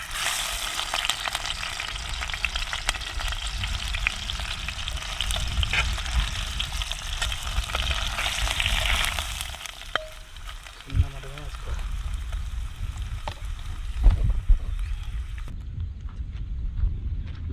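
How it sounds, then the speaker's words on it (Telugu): Two hundred grams of paneer frying in a pan, a steady loud sizzle that thins and quiets partway through, with a few clanks of stirring. "ఇప్పుడైతే దీన్ని మంచిగా ఫ్రై చేసుకుందాం."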